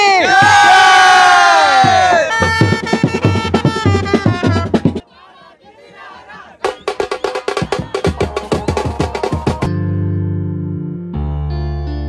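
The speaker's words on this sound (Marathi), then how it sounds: "काय जल्लोष आहे, काय जल्लोष भाई साहब, एक नंबर." A crowd of devotees on boats at sea cheers and shouts loudly for a deity's arrival festival, with bursts of chanting and music breaking in among the crowd noise.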